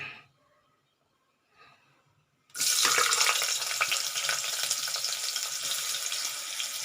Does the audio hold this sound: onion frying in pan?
yes